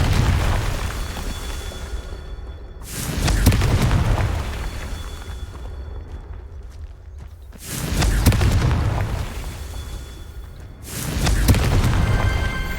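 Repeated fiery blasts from the Confringo spell in Hogwarts Legacy, three heavy booming explosions a few seconds apart, each with a deep rumbling roar and crackle that fades into a sustained background hum between bursts.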